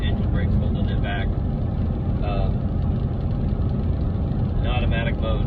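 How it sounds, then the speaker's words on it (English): A heavy truck descends a mountain grade on I-17 South near 71 mph with the engine brake holding its speed. Its loud, steady rumble runs throughout, with brief faint voices under it. "I got the cruise set at 71, so the engine brake's holding it back."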